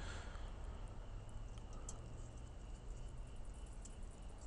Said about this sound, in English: These crickets have a nice little syncopation going on here.